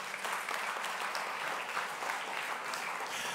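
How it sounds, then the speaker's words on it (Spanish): Church congregation applauding during a Spanish-language general service, a steady, fairly soft wash of many hands clapping without pause. "Denle un fuerte aplauso al Rey de la Gloria."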